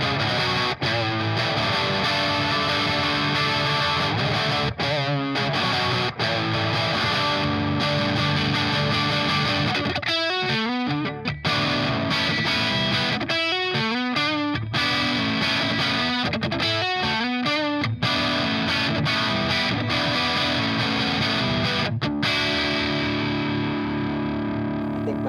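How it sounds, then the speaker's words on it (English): A Gibson Les Paul fitted with PAF-style pickups plays dense, heavily distorted chords and fast riffs through an Orange OR30 amp, loud and continuous, with brief choppy stops and a ringing fade at the end. "checking out the OR30 from Orange with my Gibson Les Paul"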